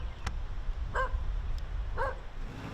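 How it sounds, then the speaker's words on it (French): Two short barks from a stray dog on the public beach at Pointe-au-Piment, about a second apart, moderately close over steady outdoor background rumble. "Il suffit de quelques aboiements de ce chien pour avoir un aperçu du nombre de chiens errants sur la plage"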